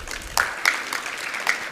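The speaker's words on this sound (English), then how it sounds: "a round of applause" A small conference audience claps and cheers briefly, with a few sharp whoops rising over the steady patter of hands.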